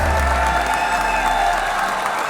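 A crowd at a sports hall of fame ceremony greets an inductee with loud, continuous applause mixed with cheering, a dense roar that stays strong throughout.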